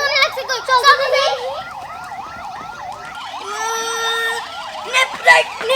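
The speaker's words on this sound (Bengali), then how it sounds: "কি ফায়ার সার্ভিসের শব্দ না আগুন লাগছে কই" A toy fire service truck wailing its electronic siren in a rapid rising and falling pattern, loud and close, with a voice talking over it.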